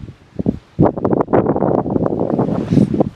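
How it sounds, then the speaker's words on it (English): Strong gusts of wind at Brevert Lake buffet and rumble close to the microphone in uneven surges, with rustling in between and no voices. "That would be a perfect spot, but it's real windy."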